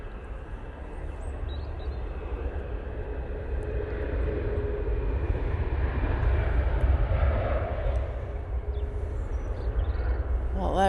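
A Lufthansa airliner at Manchester Airport gives a continuous low engine rumble at moderate distance, steady throughout with a faint rising whine near the end.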